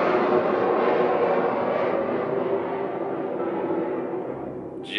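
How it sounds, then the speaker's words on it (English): Jets flying overhead make a steady, loud broadband roar that fills the whole stretch and slowly fades toward the end, with no talking over it. "jets flying over."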